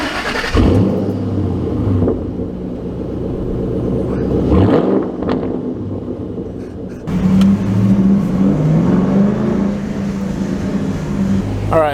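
A Ford Mustang GT V8 starts and revs loudly near a wall, a steady deep rumble with a rising rev swell midway, then a louder, harsher idle and revving toward the end.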